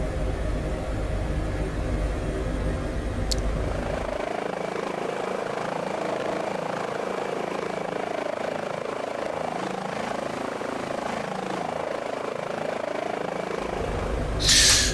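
Airbus H145 helicopter engine in Microsoft Flight Simulator, a steady whining turbine hum with a deep rumble that fades after a few seconds, leaving a lighter sustained whir before the low drone swells back at the end.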